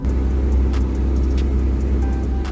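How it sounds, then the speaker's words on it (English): A rebuilt Aston Martin DB11, repaired after crash damage, drives along with a steady, close engine rumble and road noise that holds even throughout, with no voices. "The car is actually driving."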